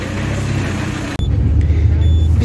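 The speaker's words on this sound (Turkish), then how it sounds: "Şimdi aracın içine bindik, bir sürüş testine çıktık." Inside a car out on a test drive, a steady low road rumble and engine drone fill the cabin throughout, with a brief dropout midway and faint beeps.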